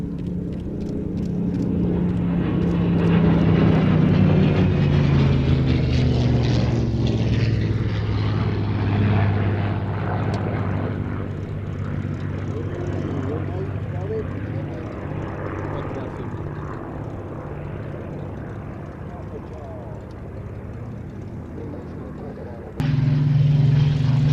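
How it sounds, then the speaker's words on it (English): A P-38 propeller aircraft flies past at the Sywell Airshow 2024. Its engine drone swells loud, then slides lower in pitch and fades gradually as it moves away. "See there the P-38 weaving on finals there"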